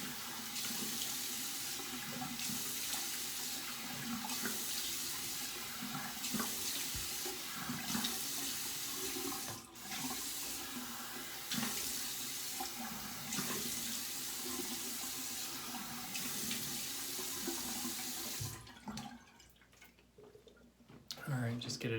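Tap water running steadily into a sink to rinse a shaving razor, a continuous close splashing hiss with brief interruptions as the razor passes under the stream, then the flow cuts off near the end.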